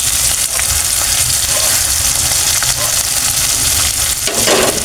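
Galunggong fish hitting a pan of sautéed tomato base for sarsiado, giving a loud, steady, crackling sizzle of hot oil that runs unbroken throughout with a brief stirring scrape near the end.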